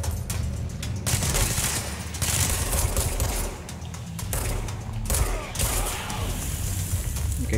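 Sustained gunfire and heavy combat noise in the video game Control, a dense, continuous roar of rapid shots and rumbling impacts for several seconds with a few brief dips, loud and unbroken by speech.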